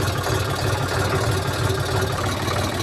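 A tractor engine idles nearby with a steady, low, rumbling chug that holds constant throughout.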